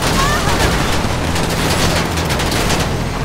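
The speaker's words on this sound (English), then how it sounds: "They went to the windshield. Because, yo, that was a lot of shots." Gunshots in GTA 5 Online rain onto a car, striking the windshield as a dense, continuous volley of loud close shots with a rumbling low end, with a voice faintly underneath.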